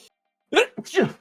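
A single close, sharp human sneeze bursts out after a brief silence, during a tabletop role-playing session.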